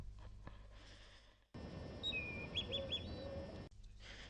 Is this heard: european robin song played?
yes